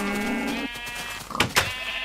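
A Minecraft sheep bleats in two wavering calls, the first long and steady, then a short pause and a second broken bleat, clear and close.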